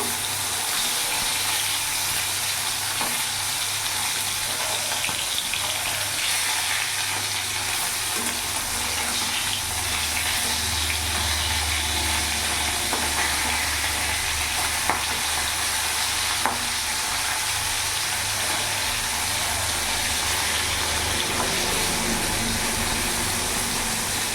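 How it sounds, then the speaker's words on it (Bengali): Bata fish frying in a pan of oil, a steady loud sizzle and crackle running throughout with occasional stirring scrapes and no talking. "এক পিঠটা ভাজা হয়ে গেছে, আমি উল্টিয়ে দেবো"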